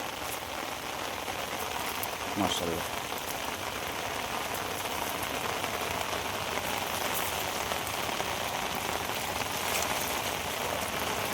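Heavy rain falls outdoors, a dense steady patter on surfaces through the whole stretch, with a voice speaking briefly once.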